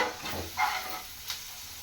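Torn chapati pieces stir-fried in a pan for a homestyle chapati egg podimas, with a soft steady sizzle and a couple of brief scraping stirs, alone and fairly quiet.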